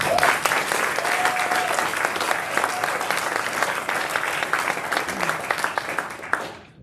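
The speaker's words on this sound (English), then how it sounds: "Let's please give Rob another round of applause." A loud, dense round of applause from a crowd at a military command birthday celebration, with many overlapping claps sustained for several seconds before tapering off abruptly.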